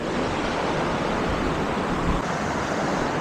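A waterfall near Mumbai spilling straight down from a cold, clear stream, a dense, constant roar of rushing water that fills the whole stretch, with no voices.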